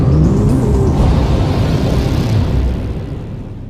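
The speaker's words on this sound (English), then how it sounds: "The upper stage of the rocket fires again." A rocket's upper stage engine firing sends out a loud, steady roar of broadband rumble. It holds constant for several seconds, then eases slightly toward the end, with no voices.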